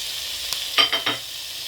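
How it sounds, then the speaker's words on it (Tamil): Onion, green chilli, garlic and ginger sauté in a pan for chicken curry, a soft steady sizzle broken by a quick run of three close spatula scrapes. "இப்போ 3 நிமிஷம் வெங்காயம் பச்சை மிளகாய் எல்லாம் வதங்குது"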